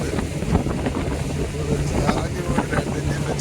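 A fishing boat at sea off Kollam running on two outboard engines, a rough continuous engine drone mixed with wind buffeting and water noise, close and steady.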